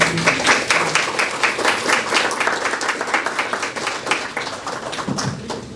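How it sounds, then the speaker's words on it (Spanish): An audience at a business school seminar on accounting and tax year-end closing claps for a presenter, a lively stretch of crowd applause with crisp, overlapping hand claps that stays strong throughout. "Un aplauso para ella, por favor."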